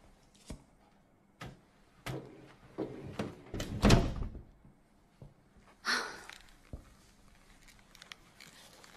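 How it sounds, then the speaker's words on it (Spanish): Door in a home being closed, heard as a series of soft knocks and clunks building to a louder thud midway, then a brief scrape and fainter taps, fairly quiet with no talking. "¿Cierras la puerta?"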